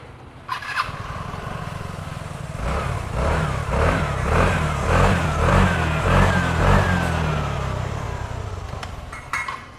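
A Vespa 150 scooter engine, just repaired with a replacement cylinder kit, runs close and loud, revving up in repeated rising and falling surges before settling back to idle.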